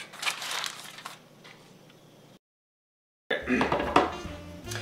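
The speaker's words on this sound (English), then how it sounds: "now we're going to cover this with some foil and hold in a warm oven until it's ready to serve" Aluminium foil crinkles and rustles over a tray of pulled pork in two bursts around a short silence, loud and close, with a faint clink of a pan.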